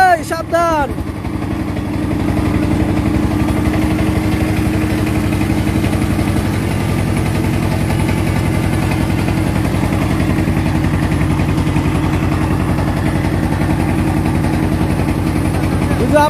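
Engine of a country motor boat in the middle of a river in Bangladesh, a steady loud droning putter running unbroken throughout, close by, with a brief voice at the start.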